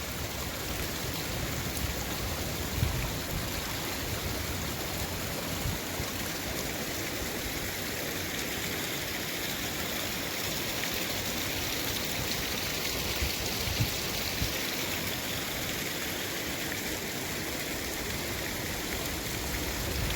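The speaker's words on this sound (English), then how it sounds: "mini waterfalls." Mini waterfalls in Maligne Canyon pour in a constant, full hiss of rushing water, close and unbroken throughout with no voices over it.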